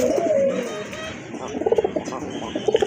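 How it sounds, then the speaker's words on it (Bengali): A domestic pigeon in a breeding collection coos nearby in rhythmic, throaty bursts, repeating low pulsing calls over a soft background murmur of other birds, with no talk. "এটাও কিন্তু অনেক ডাকে, আর রানিং কবুতর"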